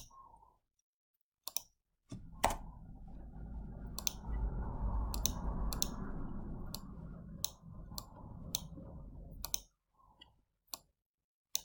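Mouse clicks on a send button, a few sharp isolated clicks spread across the clip with a steady low hum in the middle section, close and fairly faint.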